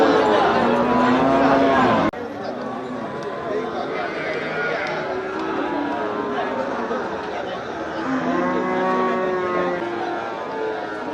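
Cattle moo repeatedly at the Melapalayam cattle market amid a busy crowd, with people chattering and talking close by throughout.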